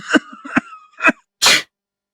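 Three harsh, close coughs in a quick rhythm, then a loud, breathy sneeze, with a brief quiet stretch at the end.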